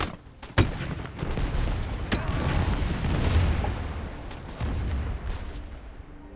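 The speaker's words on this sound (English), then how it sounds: "bombs have been released. Won't be long now until that entire bunker is destroyed." In a video game, 800-kilogram bombs hit a bunker, giving a sharp blast followed by a long rolling rumble of explosions that is loud and dense, then fades out, with no voice over it.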